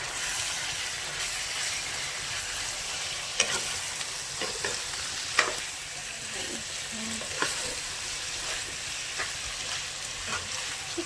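Chicken pieces frying in a pan for Filipino chicken halang halang, a steady broadband sizzle running throughout with occasional stirring clicks and pops, no one talking.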